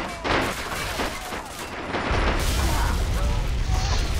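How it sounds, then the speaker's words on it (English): Artillery explosions in the WW2 video game Men of War: Assault Squad 2 rumble through a big battle, with dense bursts of gunfire followed by a heavy, continuous low boom. "I'm gonna try artillery explosion on this one."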